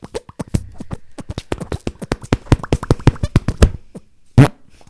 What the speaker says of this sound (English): Where the fart sound was it?